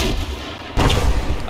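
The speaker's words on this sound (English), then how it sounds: "the tank shells are getting closer" Tank shells exploding nearby in the video game ArmA 3, a heavy booming blast that cuts in suddenly midway, loud and close, over a rumbling battlefield backdrop.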